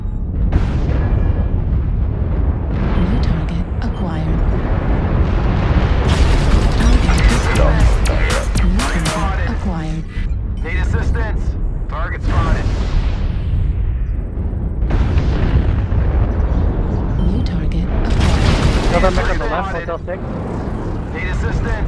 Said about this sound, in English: Artillery strike active.